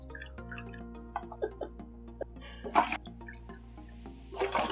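Warm water is poured from a cup into a slime kit base powder, giving a series of gurgling splashes and drips that swell into a steady pour near the end.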